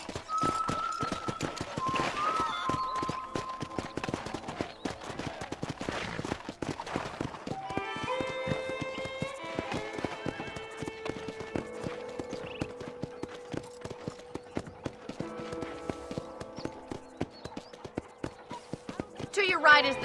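Steady clip-clop of horse hooves trotting at an even rhythm in the video game Red Dead Redemption, with a voice talking over it and background music.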